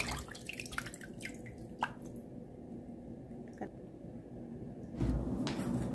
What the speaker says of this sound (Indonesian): Next, aku taruh di sini biar airnya itu netes.